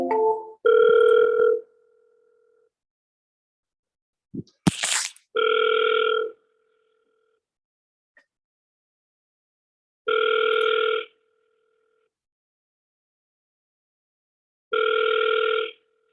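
Ringback tone of an outgoing phone call within the state, several long evenly spaced buzzy rings separated by silence, clear and alone after a brief clatter near the start.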